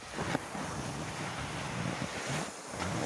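A cold north wind blows outdoors in bitter frost, producing a steady, rough roar of gusts buffeting the microphone with no voices.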